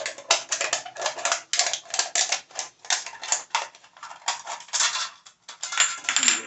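Tin snips cutting thin sheet metal along a marked line for a homemade alcohol stove, a rapid series of sharp metallic clicks and snaps in uneven bursts, close and fairly loud, with no talking.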